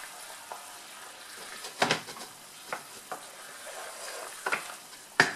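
Brussels sprouts and lardons are deglazed with water in a pan, giving a quiet, soft sizzle with scattered crackling bursts and occasional stirring clicks.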